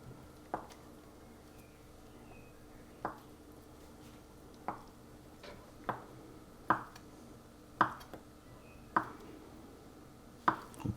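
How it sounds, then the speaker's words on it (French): Knife cutting feta cheese into small cubes on a board while preparing a shrimp salad: a series of sharp, separate chops spaced about a second apart, close and fairly soft, with no one speaking. "On va rajouter la feta qu'on va couper en petits cubes."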